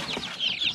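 Young chicks being carried outdoors into the sun by a farmyard coop chirp and cluck in several short, high calls close by, with no talk over them.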